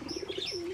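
A pigeon kept as a pet coos softly nearby, giving a quick run of short pulsing notes that settle into a longer, smoother coo, faint and alone without talk.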